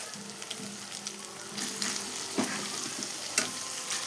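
Goat meat sizzles steadily in spiced oil, a continuous close frying hiss broken by a few scrapes and clinks of stirring, with no voices.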